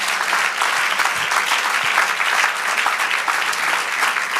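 A church congregation applauds God during a Spanish-language service, with a full, continuous roar of clapping that fills the room without pause.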